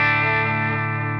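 A single sustained electric guitar note or chord, with pedal-board compression and EQ, rings out, bright and harmonically rich with a smooth, even tone that slowly fades.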